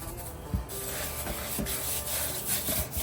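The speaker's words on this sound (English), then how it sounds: "Rub it into the meat." Bare hands rub a dry curing mix into a slab of pork belly for bacon, producing close, steady scraping and rubbing strokes with a few soft thumps.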